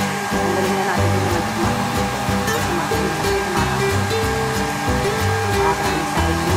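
An electric blower dries a dog's head during grooming after a shampoo, giving a loud, steady rush of air that runs unbroken throughout, with melodic music playing alongside.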